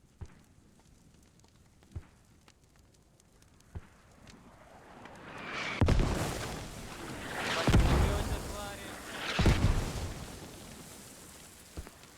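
Mortar shells strike in a military video game, a few sharp distant thumps followed by three heavy, rumbling blasts that swell and fade, heard alone without talk.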